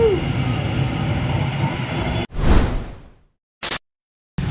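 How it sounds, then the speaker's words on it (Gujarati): An Ahmedabad metro train at Motera cricket stadium station gives a steady rumble followed by a rushing whoosh, then near silence broken by short bursts of noise. "મેટ્રો ઉભી ઊભી છે ક્રિકેટ સ્ટેડિયમ મોટેરા દરવાજા બંધ"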